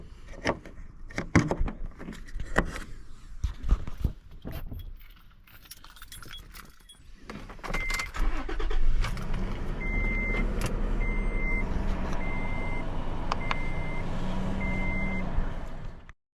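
Keys jangle and doors clatter near a parked truck, then the engine idles with a steady rumble while a regular reversing beep repeats about every second at an off-grid homestead.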